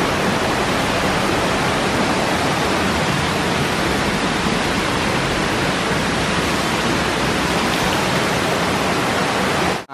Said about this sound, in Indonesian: Nah ini nih terjunnya nih dari dekat nih. Ada kenceng.